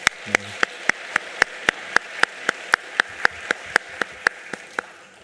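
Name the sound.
church congregation applauding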